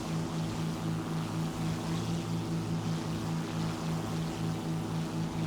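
Propeller engines of a P-38L Lightning in War Thunder droning steadily with a pulsing beat, loud and constant with no speech.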